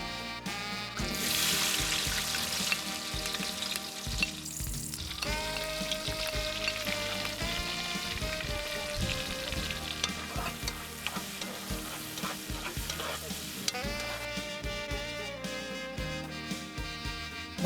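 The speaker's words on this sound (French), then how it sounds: "mettez de l'huile à chauffer. Versez-y les oignons et la tomate en premier." Onions and tomato fry in hot oil in a cooking pot, a steady close sizzle and crackle that lasts throughout, with occasional stirring.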